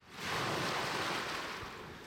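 An ocean wave breaks as a broad, soft rush of surf that swells in quickly, holds, then slowly fades, distant and gentle with no voices.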